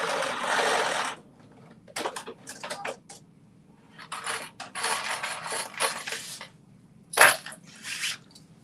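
A sewing machine runs a quick back stitch on a McCall's 8555 garment, giving several short bursts of mechanical whirring with pauses between them and one sharper clack near the end, close and moderately loud.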